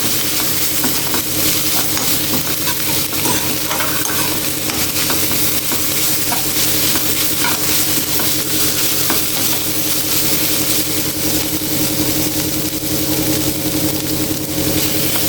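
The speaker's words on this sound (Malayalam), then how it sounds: "നല്ലോണം ഒന്നും കൂടി നമുക്ക് ഇതേപോലെ ഇളക്കിയെടുത്ത് നന്നായിട്ട് ഒന്നും കൂടി വേവിച്ചെടുക്കാം" Spinach thoran fries in a pan with a loud, continuous sizzle and hiss, while a utensil stirs it through with soft scraping strokes.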